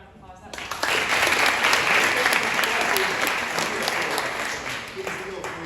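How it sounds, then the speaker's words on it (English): Audience members at a business meeting give a round of applause: dense, sustained clapping that starts abruptly and holds at full strength for about five seconds before easing slightly. "let's give another round of applause."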